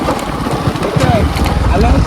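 Gusty wind buffets the microphone with a steady low rumble, over a faint wash of background noise and a few indistinct voices.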